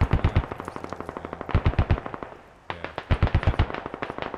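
Machine gun fire in the Squad video game on an Afghanistan map, rapid bursts of loud automatic shots with a short pause midway before the firing resumes.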